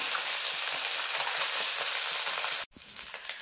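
Chala fish lightly frying in oil, a steady close sizzle that holds evenly, then cuts out briefly near the end before resuming a little softer.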